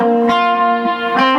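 Sustained electric guitar notes ring out through a digital delay and plate reverb, echoing repeats and a lush, lingering reverb tail, two plucked attacks blooming into wash.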